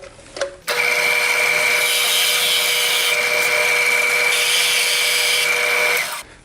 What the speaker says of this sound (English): I'll drill a shallow counter bore for each of the Torx head screws that are going to hold these legs on